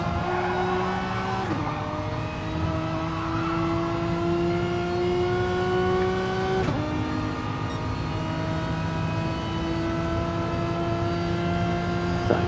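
Race car engine on an onboard lap of Autopolis in a video game, a Renault Mégane Trophy humming steadily at high revs with sharp gear-shift drops near two and six-and-a-half seconds, loud and continuous with no talk.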